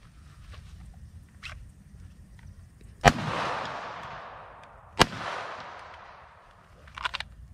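Two sharp handgun shots ring out during gun retention training on a range, about two seconds apart. Each loud crack is followed by a long echoing tail, with faint quieter knocks around them.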